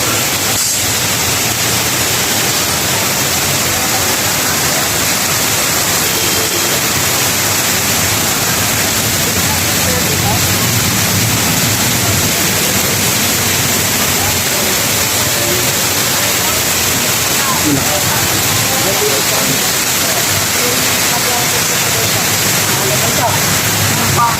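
Loud, continuous rushing of high, dirty floodwater after nonstop heavy rain, a dense broadband roar close by that persists without a break throughout.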